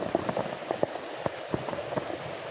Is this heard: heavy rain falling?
yes